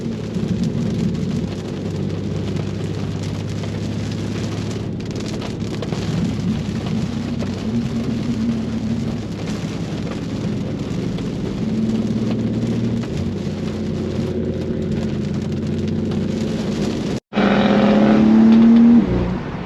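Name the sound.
rain while driving a BMW G87 M2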